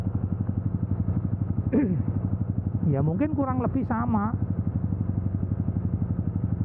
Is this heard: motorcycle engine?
yes